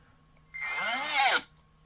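A Parkside 4V cordless rotary tool whirs up for about a second, a high, bright motor whine that climbs in pitch then cuts off abruptly, close and alone.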